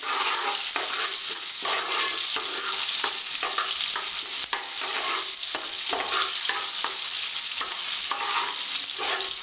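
Onions fry for rava upma in a loud, continuous sizzle, with repeated scraping strokes from stirring running through it and no voices.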